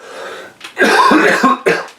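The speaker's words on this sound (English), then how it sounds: "So excuse me while I cough." A few harsh, close coughs in quick succession, with a brief pause before the final one.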